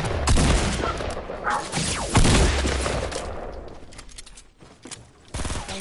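Dense Fortnite gunfire, with rapid automatic bursts and heavy shots piling up at close range, loudest early on and then thinning out before a final flurry of shots.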